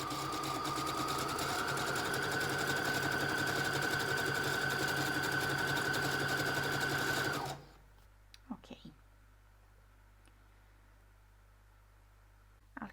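Sewing machine stitching through a page of an old magazine being made into a junk journal, a loud continuous mechanical whir close up for about seven seconds, then stopping abruptly, followed by faint handling clicks.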